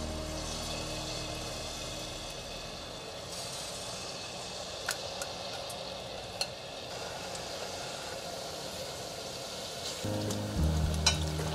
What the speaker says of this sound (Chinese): 先放点黑木耳进来， 裹上面糊后，甩一甩，放进油锅里。